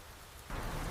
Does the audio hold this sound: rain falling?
yes